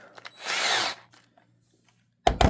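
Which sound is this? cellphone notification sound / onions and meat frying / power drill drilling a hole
power drill drilling a hole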